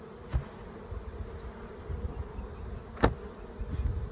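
Honey bees buzz at a crowded hive in the Orara Valley in December, where burr comb is building and another super is needed. A steady, close, low drone carries throughout, broken by two sharp clicks.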